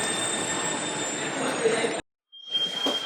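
A Copenhagen Metro M3 train arrives with a loud, steady rushing roar and a high whine, broken by a brief silence before the rumble resumes, with no voices.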